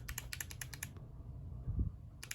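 Clicky keystrokes from a Zeal Clickiez keyboard with stock switches, a quick run of about eight crisp presses, then a quiet pause before another press at the end.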